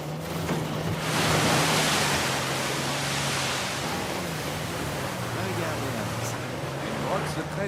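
A waterfall concealing a secret cave in the video game Uncharted 4, a dense continuous rush of falling water, loud and close throughout with a low steady hum beneath.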